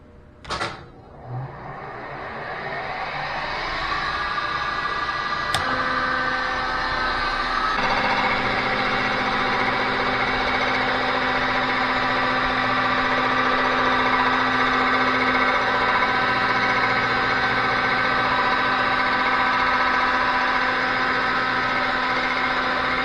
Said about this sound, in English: we can get it set up on the resurfacer and put a new finish on this gasket face